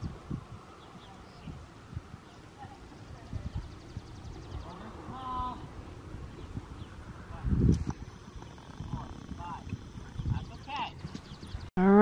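A horse walks with clear, close clip-clop hoofbeats, mixed with rustling and a brief whinny, while people talk over it at times.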